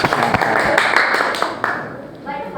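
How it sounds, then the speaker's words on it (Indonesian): A class of students claps hands in a classroom after a wiring activity lights up, a short burst of close, loud claps that thins out quickly while voices talk over it. "tepuk tangan ya"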